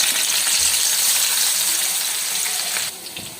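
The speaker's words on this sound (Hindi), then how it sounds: "इसके बाद हम इसमें प्याज डाल देंगे पहले" Onions go into hot oil in a wok with green chili, garlic and ginger paste for a turnip dish, giving a loud, steady hissing sizzle close by that eases off near the end.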